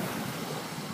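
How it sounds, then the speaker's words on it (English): Waves wash onto Negril beach in Jamaica as a close, steady rush of surf mixed with wind noise, lasting only a moment. "Negril Beach action."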